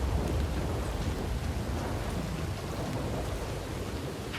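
Steady thunderstorm ambience in Red Dead Redemption 2 during a winter endurance race stage, dense rain hiss and low rumbling thunder filling the whole stretch at a constant, fairly loud level with no talk.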